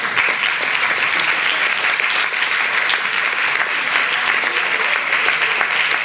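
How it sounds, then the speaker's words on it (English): Sustained applause from an audience at an integral studies conference session, dense steady clapping filling the whole stretch at even loudness, with no voices standing out. "So everybody gets a round of applause."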